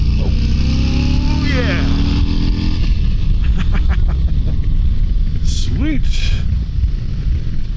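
A 2023 Harley-Davidson Road Glide Special being ridden, a loud continuous engine rumble with wind noise and a rise in pitch as it accelerates, while the rider speaks briefly over it.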